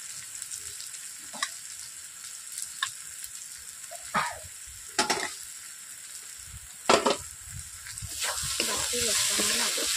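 Chili and turmeric powder sizzle steadily in hot oil as the base for a Bengali-style chicken korma, a constant close hiss punctuated by several sharp stirring scrapes, with the sizzle swelling louder toward the end.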